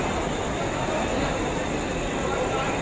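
A train at Dadar railway station in Mumbai, a loud, continuous rumbling roar of rolling stock filling the whole clip, with no breaks or distinct clatter.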